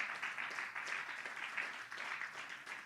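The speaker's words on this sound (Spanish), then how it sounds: "Un aplauso fuerte al Señor." Applause from a church congregation, continuous and fairly faint, with steady rippling clapping throughout and no talk over it.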